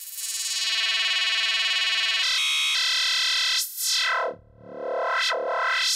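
Buzzy FM synthesizer tone, first a sustained bright held note that changes timbre, then sweeping dives and rises in pitch like laser zaps, loud and alone.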